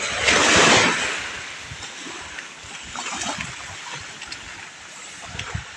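Rough sea surging over flooded ground, with a loud rushing wash of water at the start that eases into a steady churning roar and scattered splashes.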